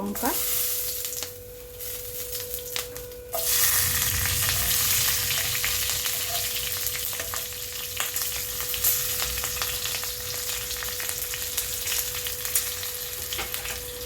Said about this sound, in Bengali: ওই তেলে আমি দিয়ে দিলাম কালো জিরে